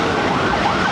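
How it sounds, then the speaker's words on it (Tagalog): Ambulance siren on a city street in Manila, wailing loud and close across the whole moment, its pitch sweeping over a dense bed of road traffic noise. "may walay na ambulansya."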